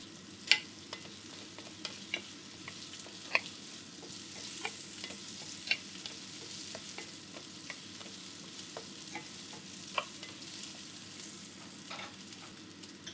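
Carrots sautéing in oil in a pan for crispy fried phở, giving a steady close sizzle broken by occasional sharp utensil taps and scrapes as they are stirred over about thirteen seconds, with no talking.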